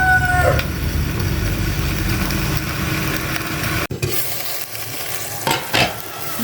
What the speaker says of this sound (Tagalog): Igisa kong maigyan bago ko timplahan.